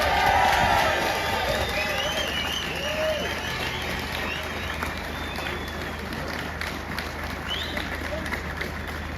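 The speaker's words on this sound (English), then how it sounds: "Another big round of applause for Ollie there." Sustained crowd applause with scattered cheers and whistles at a farmers' street protest in London, a dense, steady wash of clapping that runs the whole time, loudest at the start and easing slightly.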